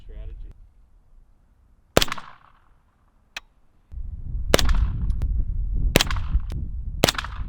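A suppressed B&T SPC9 PDW fires several sharp, spaced shots, each a crisp crack with a short tail, with a faint voice at the start and a continuous low rumble under the later rounds.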